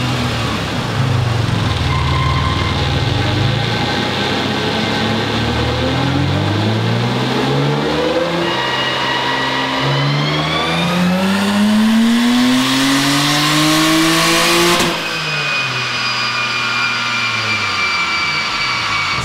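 Turbocharged V6 Honda engine on a dyno pull, loud and close, its note climbing steadily in pitch as revs build over several seconds, then cutting off abruptly and settling into a lower drone as it winds down.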